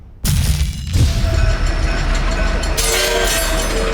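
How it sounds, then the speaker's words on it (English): A train roars past in the video game Master Of Puppet, a sudden loud rush of rumbling and rattling wagons that sets in abruptly and carries on close for several seconds, with tonal squeals appearing later. "Oh, not another train."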